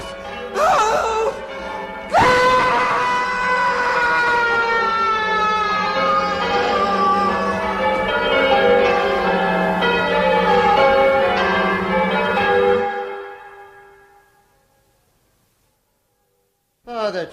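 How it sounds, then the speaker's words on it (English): Church bells ring loudly in a dense peal of overlapping tolls, sustained for several seconds before stopping abruptly into near silence. "I never thought I should feel relieved at having the bells silenced, but they really are extremely loud."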